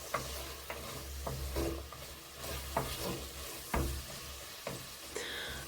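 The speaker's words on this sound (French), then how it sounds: "Laissez bien mijoter et remuer de temps en temps" Algerian berkoukes vegetable soup stirred as it simmers, soft bubbling under repeated knocks and scrapes of a utensil against the pot at an irregular pace, no talking.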